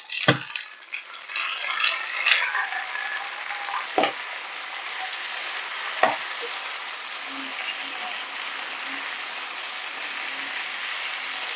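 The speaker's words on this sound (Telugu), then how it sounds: "ఇప్పుడు ఇందులోకి ముందుగా ఉడకబెట్టుకున్న లివర్ వేసేసుకున్నాము" Pre-boiled liver hits a pan of green chillies and mint and fries with a bright, steady sizzle, punctuated by a few sharp clanks of a utensil against the pan.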